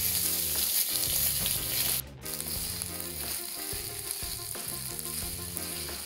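Tofu kebab, onions and tomato concentrate sizzling in a pan as they are stirred, a continuous loud frying hiss with spoon scrapes and a short break partway through.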